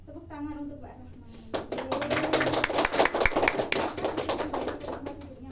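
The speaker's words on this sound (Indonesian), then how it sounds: "tepuk tangan untuk Mbak Rahma" A classroom of students breaks into applause for a classmate, a burst of many close hand claps lasting several seconds after a brief spoken line.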